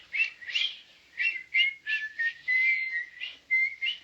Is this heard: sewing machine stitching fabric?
no